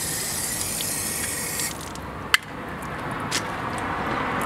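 Tap water running out of a hose during a window-cleaning resin change, a steady hissing gush that thins partway through, broken by a sharp click and a later tap.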